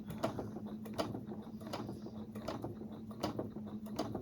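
A sewing machine running a stitch line through fabric of a poinsettia table runner, a quiet steady mechanical whir with regular ticking clicks roughly every half second, close and without talk.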